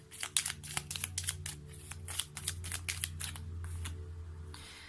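Tarot cards are drawn and handled, producing a quick run of crisp, close card snaps and shuffling flicks over a low steady hum.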